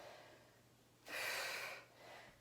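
A short, forceful breath out during a bodyweight leg-lift exercise, a breathy whoosh of about half a second, followed by a softer second breath, close and quiet.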